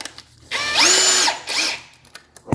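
A power drill fitted with a 90-degree drill bit whirs up in two close bursts, the first longer with a rising whine, while working underneath a KitchenAid KDTM354DSS4 dishwasher during a leak repair.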